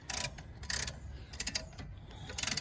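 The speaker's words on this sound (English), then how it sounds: "take your brake caliper compressor and install it into the brake caliper." Brake caliper compressor worked into the front caliper of a 2007 Honda Accord EX during a brake replacement, giving short bursts of close ratcheting clicks separated by quieter gaps.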